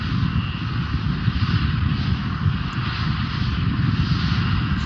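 SpaceX Starship SN8 prototype rocket engines firing during a test flight: a steady, distant roaring rumble that holds at an even level without obvious breaks.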